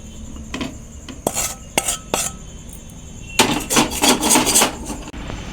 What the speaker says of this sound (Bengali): এবার গ্যাসের ফ্লেমটা অফ করে দিয়ে এটাকে আমি একটা বাটিতে নামিয়ে নেব।